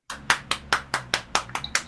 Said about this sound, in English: So please have a big round of applause for Jamie Barrett.